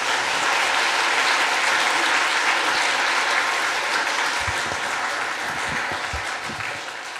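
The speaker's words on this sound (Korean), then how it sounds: "박수하겠습니다." A church congregation applauds in a dense, sustained wave to welcome a guest pastor, with the claps loud at first and then thinning and fading toward the end.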